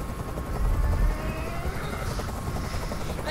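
Helicopter flying overhead in the video game Detroit: Become Human, a steady loud rotor thump and whine throughout with no speech.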